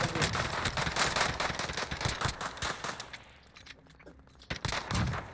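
Gunfire in Call of Duty Warzone: dense, rapid automatic bursts crackle continuously and loudly, ease off briefly, then resume with more shots near the end.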